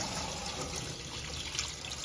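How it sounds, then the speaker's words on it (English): Ice water draining off blanched green beans and asparagus beans in a kitchen, a soft continuous trickle and splash of water pouring away, quiet and close. "it's time for our green beans to drain the water"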